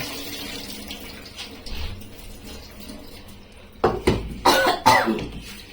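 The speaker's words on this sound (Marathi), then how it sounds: "आईला ठसका पण येतोय" A woman coughs in a fit while cooking khichdi in a home kitchen, where rice has just been washed in water; several sharp, close coughs come in quick bursts over a quieter background.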